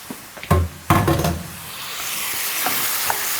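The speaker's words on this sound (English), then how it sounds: "Chickpea time. They can go in." Chickpeas tipped into a red-hot pan of sizzling spicy lamb mince: a couple of sharp thuds and clatters, then a steady loud sizzle that settles into a hiss.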